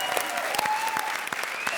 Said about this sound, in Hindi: बजा ताली